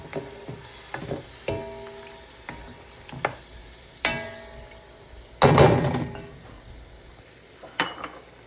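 Beef stew with potatoes is stirred in a pan after white wine goes in, with a low simmering sizzle beneath intermittent spoon knocks and clanks against the pot, and a brief louder scraping burst midway.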